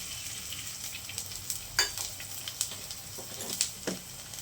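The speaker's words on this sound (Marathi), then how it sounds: "तूप गरम झालं की त्यामध्ये डिंक घालून द्यायचा।" Edible gum frying in a little hot ghee in a kadhai, a steady soft sizzle with scattered sharper crackles and pops close by, no talking.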